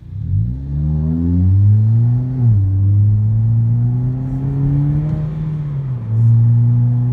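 A 2020 Hyundai Veloster 2.0 with its muffler deleted, in sport mode, revs loudly and accelerates up through the gears, a deep throaty roar rising and dropping with each shift, close and unmuffled.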